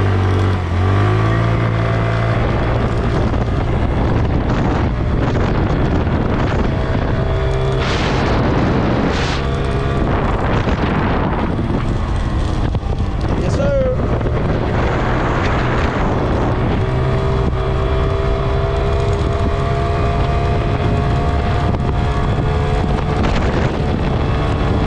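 A 50cc moped riding late at night, with a loud steady engine drone and heavy wind buffeting the microphone the whole way through.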